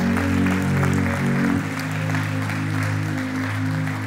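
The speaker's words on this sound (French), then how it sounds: "Est-ce que quelqu'un peut donner une bonne main d'applaudissement au Seigneur pour ça?" A church congregation claps during a Sunday service, steady crowd applause layered over sustained organ or keyboard chords that shift partway through.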